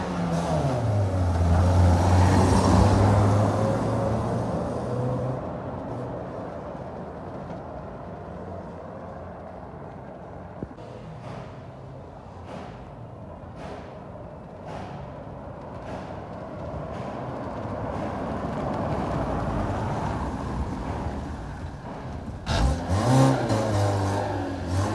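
A Fiat Uno Fire drives steadily, its engine rising and falling through gear changes, with a louder rev near the start and again near the end. The engine note carries continuously throughout.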